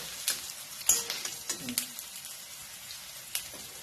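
Alu vadi, colocasia leaf rolls, frying in a pan: a quiet, steady sizzle broken by a few soft clicks and scrapes of stirring, heard close with no talking.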